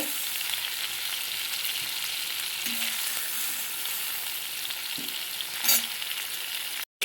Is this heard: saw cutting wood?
no